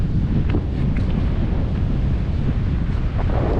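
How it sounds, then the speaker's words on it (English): Strong wind at a lava-rock coastline at Somerset Point on Cape York buffets the microphone in a loud, continuous low roar, with faint surf beneath and no voices. "It's blowing pretty hard though, as you can probably hear."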